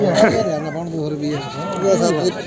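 A black goat bleats in wavering, drawn-out cries at a busy Punjabi goat market, loud and close, with voices from the crowd mixed in.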